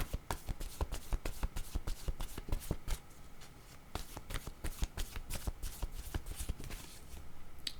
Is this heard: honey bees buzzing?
no